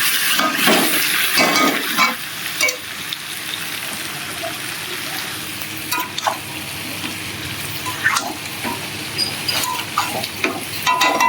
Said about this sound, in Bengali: তো দেওয়ার পর ভালো করে চিকেনটা এখন কষিয়ে নেব